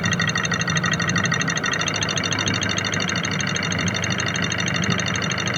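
Diesel engine idling roughly with one cylinder cut out during an injector test, a steady close mechanical clatter with a persistent knock running unbroken throughout, no voices.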